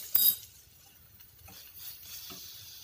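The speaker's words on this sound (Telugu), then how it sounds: "ఉల్లిపాయలు కొంత వేగాక కొద్దిగా అల్లం వెల్లుల్లి పేస్ట్ వేసి వేయించాలండి" Onions and ginger-garlic paste frying in a pan for a sorrel leaves and chana dal curry, a faint sizzle beneath a few light clinks of a spoon stirring against the pan.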